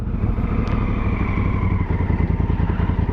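A Honda Africa Twin motorcycle engine drones loudly and steadily close up, its low rumble pulsing evenly as the bike rides along.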